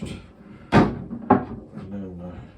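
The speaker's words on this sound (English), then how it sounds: "So this door's got to close first" A wooden door on a reproduction 18th century Newport secretary swings shut with two sharp knocks close together, followed by a faint rattle, nearby in a workshop with a voice speaking quietly around it.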